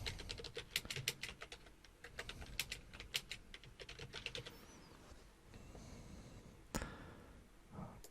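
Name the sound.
typing on a computer keyboard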